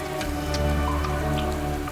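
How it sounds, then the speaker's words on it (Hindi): Heavy rain pours steadily in a steady dense patter on surfaces, loud and continuous with scattered individual drop hits and a low hum beneath. "इतनी तेज बारिश हो रही है"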